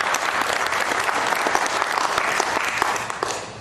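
An evening talk audience gives a warm round of applause, many hands clapping in a dense, steady stream that stays strong and tapers slightly toward the end, with no talking over it.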